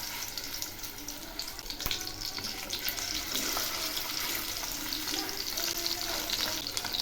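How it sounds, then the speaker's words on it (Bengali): Pieces of katla fish fry in hot refined oil in a pan, a loud continuous sizzle with crackling bursts and a sharp clink near the start, lasting several seconds. "তেল গরম হয়েছে, এখন আমি মাছগুলো ছেড়ে দিচ্ছি।"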